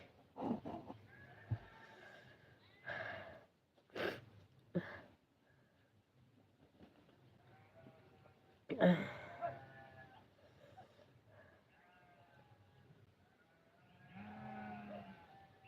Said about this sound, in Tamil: ஐயோ ஆடு கத்தி உயிரை வாங்குதே